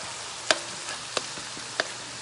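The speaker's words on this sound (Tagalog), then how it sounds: "gisa ng bawang sibuyas kasama ng corn" Garlic, onion and corn are sautéed in a pan under a continuous hiss of frying. Three sharp, separate scrapes from a utensil against the pan stand out above the sizzle.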